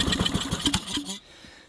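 Small snowblower engine with a Tecumseh carburetor running rough, a close, uneven sputtering putter for about a second before it cuts off into quiet.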